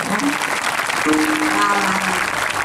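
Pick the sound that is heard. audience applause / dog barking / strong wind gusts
audience applause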